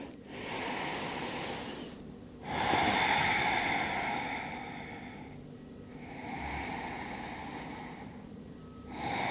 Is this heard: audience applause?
no